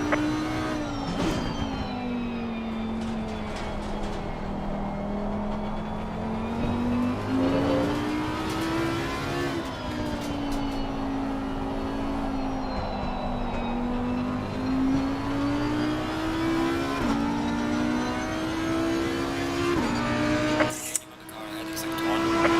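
GT3 race car engines in Assetto Corsa Competizione at the Hungaroring drone steadily, pitch rising and falling through gear changes and corners, with other cars passing nearby and a voice talking over the engine note.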